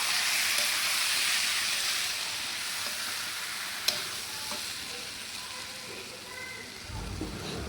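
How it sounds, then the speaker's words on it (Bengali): Chopped onion and garlic frying in oil make a loud, broad, steady sizzle close by that slowly eases, with one sharp utensil tap midway and a low rumble near the end. "এর জন্য তেল আমরা পেঁয়াজ কুচি এবং রসুন কুচি এগুলো আমি ভাজতে দিয়েছি"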